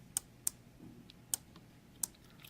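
Four crisp mechanical clicks of an electrical relay switching, at uneven intervals, close and fairly quiet, with near silence between them.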